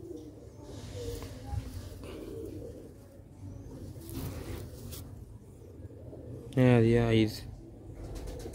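Sialkoti black-faced pigeons cooing in low, soft rolling calls through most of the stretch, with a louder burst near the end, while someone speaks over them.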